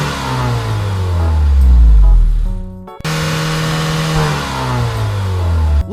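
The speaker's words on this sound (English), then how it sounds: "It's a speeding race car." A white toy race car speeding along, with a loud, continuous engine-like whine that rises and falls in pitch through repeated revving sweeps, briefly cutting out midway before surging again, with no talking.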